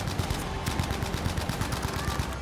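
Rapid automatic fire from a Bren gun in Battlefield 2042, a dense steady stream of close, loud shots lasting the whole moment.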